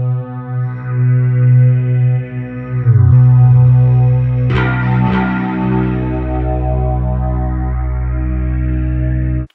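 Bass tone run through chorus and distortion effects, recorded on a cassette Portastudio with a TDK endless loop tape; a loud, sustained, buzzy low line with a sharp pluck and a shift midway, no talking.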